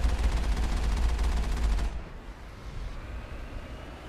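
Automatic gun turrets in the Mass Effect video game open fire on a snowy blizzard-swept planet, a loud rapid burst of gunfire that cuts off abruptly, leaving a low windy rumble.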